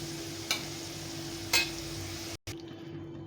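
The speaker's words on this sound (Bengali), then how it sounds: "আলুগুলো ভেজে নিয়েছি লাল লাল করে" Diced potatoes fry in oil in a home kitchen pan, a soft, steady sizzle broken by two sharp utensil taps and a brief dropout near the end, with no one talking.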